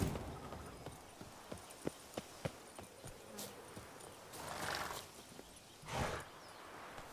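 Horse hooves clip-clopping at a steady gait in The Witcher 3: Blood and Wine, a series of sharp thuds over quiet ambient background, with a couple of soft swells of wind or movement near the end.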